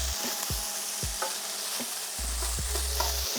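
Chicken stir-frying in a hot pan, loud sizzling broken by repeated scraping stirs about every half second, close up with no voices.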